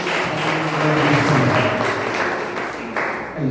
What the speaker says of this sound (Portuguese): aplauda o nome do Senhor com muita alegria